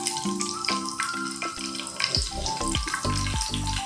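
Chillies, red and green, frying in a pan: a steady hissing sizzle with crackling pops and a few clanks of utensils against the pan, heard close and without talk.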